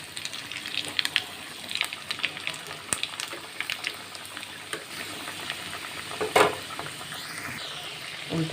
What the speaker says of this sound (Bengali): উল্টে পাল্টে ভালো করে ভেজে নিয়েছি।